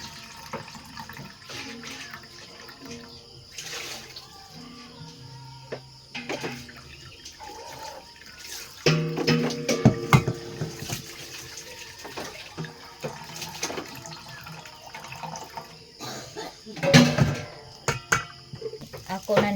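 Water runs from a kitchen tap while coconut milk is prepared, a steady splashing flow with clinks and handling noises and some voices in the background.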